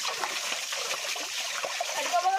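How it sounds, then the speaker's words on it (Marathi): Water thrown by hand while fishing splashes and trickles in a continuous bright wash into muddy water, with small splatters and a faint whistle-like tone near the end. "पाणी फेकावं लागतं म्हणजे मासे येतील"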